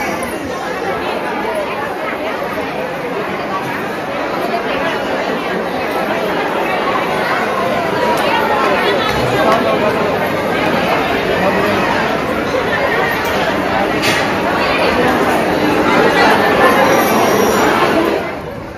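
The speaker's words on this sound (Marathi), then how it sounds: "बाबा माझ्या गर्दी बघ" At Jivdani temple a dense crowd chatters continuously in a steady, loud babble of many voices that fills the whole stretch, with nearby people talking within it.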